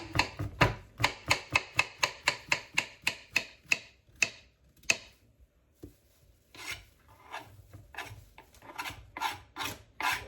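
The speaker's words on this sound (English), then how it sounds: "So then I'll just slice them." A knife slices peeled vegetables on a cutting board for homemade dog food, giving a rapid run of crisp, evenly spaced cuts, then a pause and a few slower, scraping strokes, all close and clear.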